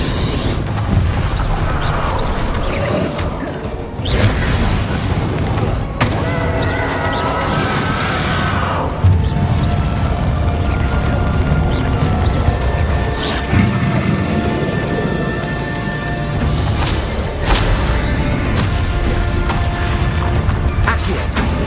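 Spell blasts and explosions crash and boom through Hogwarts Legacy combat in a long loud barrage, layered with whooshes and impacts, mixed with game music and brief voice lines.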